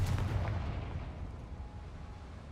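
A Confringo fire spell cast in Hogwarts Legacy lets off a loud, booming blast with a heavy low rumble, peaking at once and then slowly fading into a rumbling tail.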